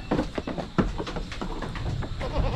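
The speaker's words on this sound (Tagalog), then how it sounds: "Ito yung pinakagwapo nating kambing ngayon." A tall male goat on a farm bleats several times in short bursts, close and fairly loud over faint background rustle.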